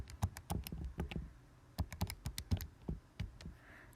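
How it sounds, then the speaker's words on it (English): Quick clicks of calculator keys being pressed as numbers are entered, in two short bursts of irregular taps separated by a brief pause, close and fairly quiet with no talking. "Type that into the calculator."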